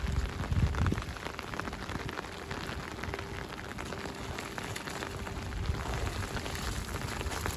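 Steady rain falls during a monsoon-season fishing outing, a continuous dense patter on surfaces, close and even throughout with no voices.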